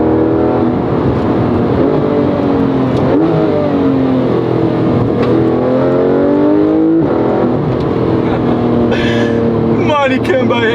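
A Porsche 911 GT3 RS engine revs hard and loud from inside the car, its pitch climbing and dropping through repeated gear changes over roughly eleven seconds.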